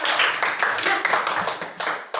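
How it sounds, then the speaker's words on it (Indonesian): A classroom of students clapping hands together in a quick rhythmic burst of fairly close claps lasting about two seconds. "Tepuk tangan dulu untuk semua yang sudah."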